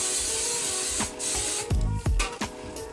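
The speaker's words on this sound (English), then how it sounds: "and then spray all over it" Hissing hairspray in several short bursts, close by, with a long steady spray first and then quicker puffs.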